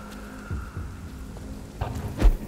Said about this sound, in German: es regnet in London die ganze Zeit